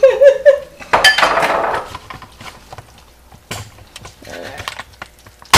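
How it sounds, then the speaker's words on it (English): A spoon scrapes and clinks against a pot while butter melts for a Southern caramel cake, irregular metallic knocks and scrapes close by, loud at first then softer. "you're supposed to just keep stirring until the butter melts"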